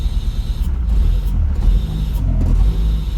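A Honda K24 engine swapped into a Toyota MR2 with a faulty Ktuned throttle body runs roughly and bogs, a low uneven rumble close by with several short dips and mechanical creaks.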